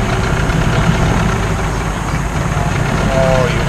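A dinghy outboard engine idles in a steady, rough, close-up rumble for a few seconds, with voices talking over it.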